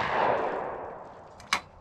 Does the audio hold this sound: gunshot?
yes